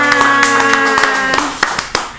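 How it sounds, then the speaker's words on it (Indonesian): A few people clap in a podcast studio, sharp separate claps that thin out and slow down over a steady sustained musical tone. "Tepuk tangan untuk kita semua."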